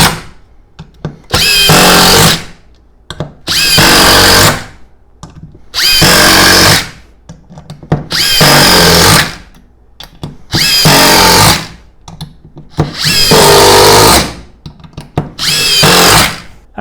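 A Makita XGT impact driver, Japanese Gen 2 model, drives screws on high speed setting 4 in seven loud, close bursts of roughly a second and a half each, separated by short pauses with light clatter.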